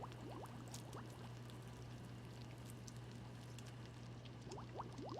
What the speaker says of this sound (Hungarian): Valami víz buborékol?